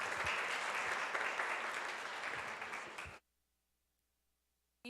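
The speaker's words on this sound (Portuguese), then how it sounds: "Palmas para elas, pessoal." Applause from an audience at a talk on autism and disabilities, a dense, steady wash of clapping for about three seconds that cuts off abruptly into near silence before a brief return at the end.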